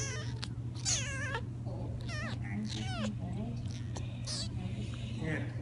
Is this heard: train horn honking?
no